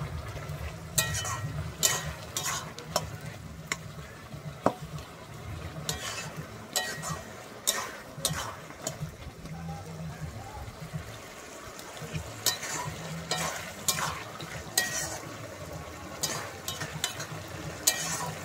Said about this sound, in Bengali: আমি খুন্তির সাহায্যে আলুগুলোকে এরকম ভাবে একটু টিপে দিচ্ছি।